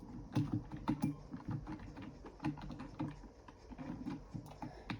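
Keys on a computer keyboard are pressed in quick bursts while a PC game is played with keyboard and mouse, uneven clusters of close clicks over a low background rumble.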